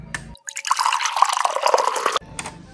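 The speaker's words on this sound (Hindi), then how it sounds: "तो ये मैंने टैप ओपन कर दी है" Water running from the tap of a small toy water cooler from a mini kitchen set, a bubbling splashing pour lasting under two seconds between short quiet moments.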